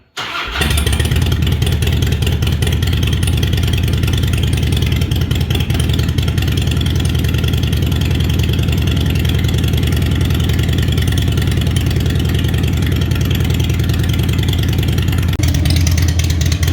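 A Harley motorcycle engine cold-starts loudly and settles into a steady, throbbing idle close by, with a brief rev near the end.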